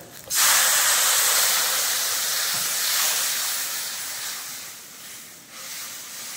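Water poured into spices frying in a pan (salt, turmeric, chili powder, ground coriander and cumin) bursts into a loud, steady steamy hiss that holds for several seconds and slowly fades, with no talking.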